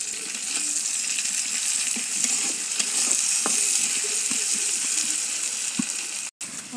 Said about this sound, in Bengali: পেঁয়াজ রসুনগুলো আমি একটু বাদামি কালার করে ভেজে নিব